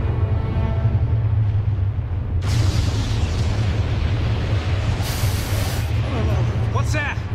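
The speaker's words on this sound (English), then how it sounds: "The explosion's starting." A big explosion from the Tekken animated film bursts out over a low steady rumble, with bright blasts and crackling debris that follow.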